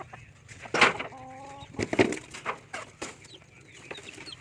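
Chickens cluck and call at feeding time, close and intermittent, with one short rising call and scattered rustling among the birds.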